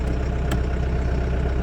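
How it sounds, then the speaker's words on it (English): A farm tractor's engine runs steadily while its hydraulics lift a wood chipper, a continuous low, even drone with one brief sharp click partway through. "there's that chipper raising."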